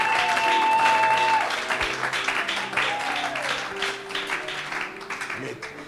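A church congregation applauding and acclaiming the Lord, steady clapping from a crowd with sung or shouted voices over it, gradually thinning toward the end.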